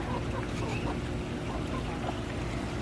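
Chickens wading in a muddy, crowded garden run give soft, faint clucks scattered over a constant background wash.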